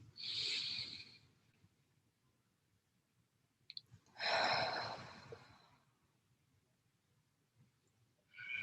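Deep breathing during a guided breath work session: two long, close inhalations several seconds apart, airy and hissing, with quiet gaps and a faint click between them.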